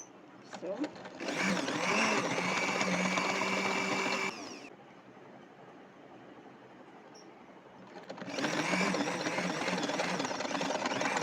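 A sewing machine stitches a bustier blouse in two loud, fast bursts separated by a quieter pause of a few seconds.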